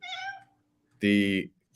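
Two cat meows, a wavering higher cry followed after a short pause by a louder, strained call, close and clear with no talk.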